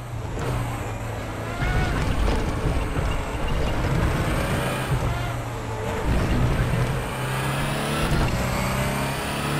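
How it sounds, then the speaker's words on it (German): Audi R18 TDI race car engine in the RaceRoom R3E sim at the Nürburgring GP, a continuous loud drone with rising and falling revs as gears change, heard alone without talk. "Ich finde, man hört den Motor aber halt auch einfach nicht gut drehen."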